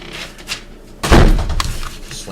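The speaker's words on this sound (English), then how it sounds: "Slam the door louder, Nicole." A door slams once with a loud, close thump, followed by a brief rattling tail, after a quiet stretch of faint room sound.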